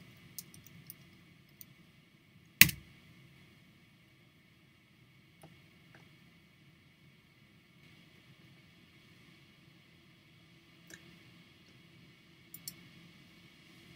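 A single sharp computer mouse click in Excel stands out against a quiet room hum, with a few fainter clicks and ticks scattered around it.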